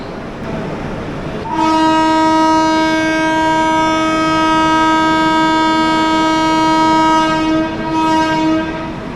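The 16320 Kochuveli Humsafar Express departs Bengaluru SMVT station, its horn sounding a long, loud, steady blast for about six seconds, followed by a short second toot over the rumble of the train.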